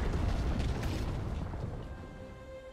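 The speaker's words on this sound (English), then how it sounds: "Red team's turret has been destroyed." A turret collapsing in League of Legends, a deep rumbling blast with crumbling debris that fades out over a couple of seconds.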